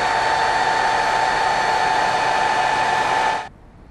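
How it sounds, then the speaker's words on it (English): A hair dryer blows steadily and loudly at close range while drying paint on a realistic scale model tank, a continuous broadband whoosh with a faint whine that cuts off abruptly near the end. "go to the hairdryer and just see how it goes"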